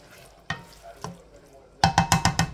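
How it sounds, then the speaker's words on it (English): Tomato sauce simmering in a pot on low heat, with a few scattered soft pops followed by a quick run of five louder bubbling bursts, close up. "as you can see, it's already boiling"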